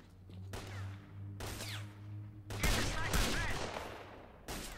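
Gunfire in S.T.A.L.K.E.R.: Clear Sky comes as loud, close bursts of rapid shots separated by short pauses, over a steady low game hum.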